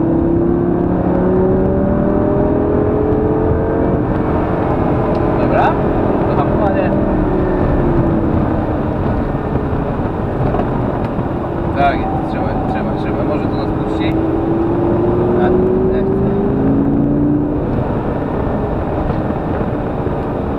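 A Lamborghini Gallardo engine drones loudly throughout at full throttle, its pitch rising and falling as it accelerates, with wind rush and occasional voices beneath.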